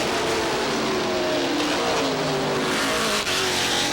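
NASCAR Modified race cars at Star Speedway roar past on the final lap of the 1990 Winston 150, a dense, continuous engine drone with rising and falling pitch as the pack streams by, loud and steady with no talk.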